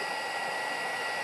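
A heat tool blows for heat embossing a stamped craft piece, giving a continuous steady whooshing hum, close and even throughout.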